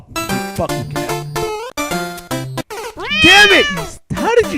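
Cartoonish cat meows from the Cat Mario video game, a quick string of loud, repeated mews that ends in longer, drawn-out wailing cries.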